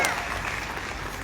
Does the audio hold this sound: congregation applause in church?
yes